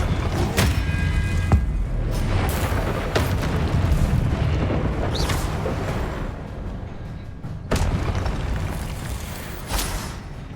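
Confringo fire spells bursting in the Hogwarts Legacy video game, rolling booms and blasts repeating every couple of seconds over a dense, loud rumble of combat, with no voices.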